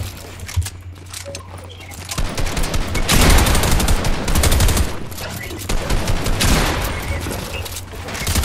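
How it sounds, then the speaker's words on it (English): Rapid bursts of gunfire crackle through a Fortnite Chapter 5 match, dense volleys that swell and fade over several seconds, mixed with game noise. "there's another team shooting me"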